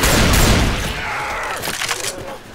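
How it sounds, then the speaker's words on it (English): Loud burst of frag-round gunfire in Left 4 Dead 2, a heavy blast at the start fading into scattered shots and rumble. "Deploying frag rounds."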